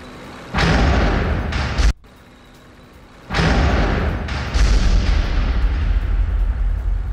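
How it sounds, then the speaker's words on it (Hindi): HIMARS rocket strikes on Russian positions in Bakhmut: two loud, heavy booming blasts with rumbling tails, the first around half a second in and another near three seconds, separated by a quieter stretch, with no speech. "हाइमार्स से यूक्रेन का ताबड़तोड़ अटैक, बाखमुत में रूसी ठिकानों पर हमला किया गया"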